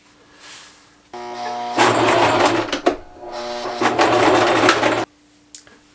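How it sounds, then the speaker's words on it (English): A sewing machine stitches a denim camera strap in two loud, buzzing runs of a few seconds each, separated by a short pause, with quiet handling noise before and after. "I'm just going to sew the strap on so that it is nice and secure"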